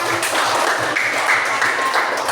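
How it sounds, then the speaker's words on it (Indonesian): Fifth-grade pupils in a classroom clap together, a dense burst of many small hands, close and fairly loud, with a few faint ringing tones mixed in and no speech over it. "Tepuk tangan."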